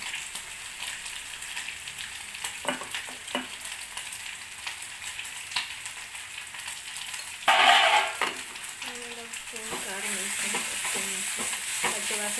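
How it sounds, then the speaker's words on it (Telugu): Ginger garlic paste masala sizzles in a pan for an egg and dried fish curry, a soft steady frying hiss broken by scraping stirs, with a louder burst of sizzle midway and busier crackling near the end. "ఫ్రై చేస్తాను అల్లం వెల్లుల్లి పేస్ట్ మసాలా వేగిపోయిన తర్వాత"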